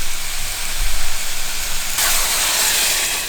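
About 400 cc of prepared broth hits a hot pan of lightly stir-fried cabbage and garlic for tantan ramen soup: a low sizzle, then a sudden loud, sustained steam hiss that surges and holds to the end, with no talking.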